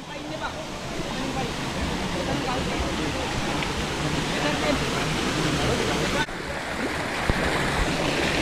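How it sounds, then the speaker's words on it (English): Constant roaring rush of water at the top of a waterfall in Sri Lanka, loud and unbroken throughout, with voices faintly present under the noise. "This is the top of the waterfall."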